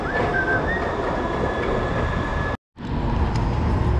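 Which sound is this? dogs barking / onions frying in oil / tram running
tram running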